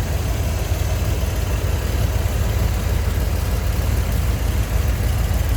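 A 1981 Chevrolet Corvette V8 with chrome covers, chrome alternator and air cleaner cover idles steadily, a smooth continuous low rumble close by with no talking.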